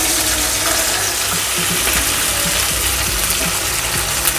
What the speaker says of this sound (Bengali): ক্যাপসিকাম আর পেঁয়াজ একসাথে ভেজে নেব।